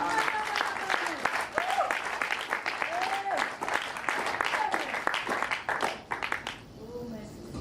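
A church congregation applauds loudly and steadily for several seconds, dense clapping with a few raised voices mixed in, before it tapers off near the end.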